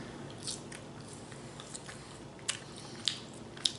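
Someone eats Wendy's crinkle-cut fries up close, with a few sharp, crisp crunching bites spaced over a few seconds against a quiet room.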